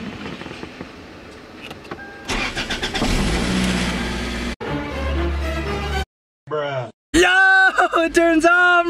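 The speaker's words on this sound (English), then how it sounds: "Alright, so the car finally turns on." A car engine cranking and catching after an engine cleaning, then running, with abrupt cuts between segments and a voice talking over the later part.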